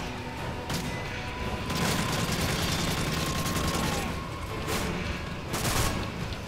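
Automatic gunfire in the video game Modern Warfare 3 Spec Ops, a dense, continuous rattle of rapid shots and booms throughout, loud and close, with a brief voice.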